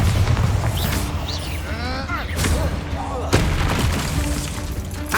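Bombarda blasting-spell explosions in the Hogwarts Legacy video game, with repeated booming thumps and sharp cracks over a continuous rumbling game soundscape, along with whooshing magical effects.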